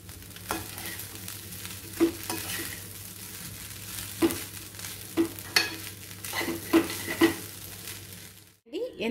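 Okra and fresh coconut rice being mixed in a pan, with a soft background sizzle, repeated scraping strokes and occasional light clinks of a spoon against the pan, close but quiet, ending abruptly.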